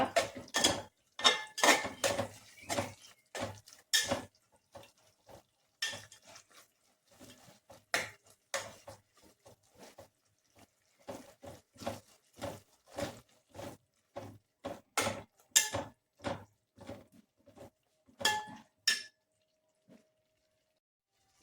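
Something being stirred in a pan makes repeated sharp clinks and scrapes of a utensil against metal in uneven bursts, with short quiet gaps between them and no talking.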